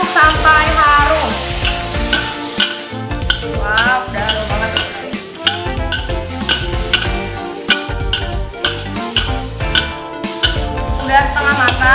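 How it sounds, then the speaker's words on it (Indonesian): Black pepper beef frying and being stirred in a pan, with continuous sizzling and scraping stir strokes and light utensil clinks, while a person talks over the cooking throughout. "Kita aduk sampai harum."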